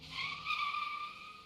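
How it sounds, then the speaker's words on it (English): Tires screech in a truck racing video game, a loud, sustained squeal lasting the whole moment and swelling slightly midway, heard alone. "Get the tires screeching."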